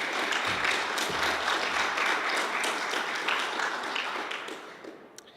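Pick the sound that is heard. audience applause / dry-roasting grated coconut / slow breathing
audience applause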